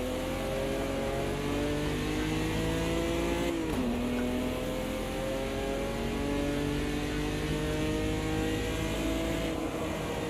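A race car engine in a sim racing game drones steadily and loudly throughout, its pitch dipping sharply as it brakes into a hairpin, then climbing again under acceleration.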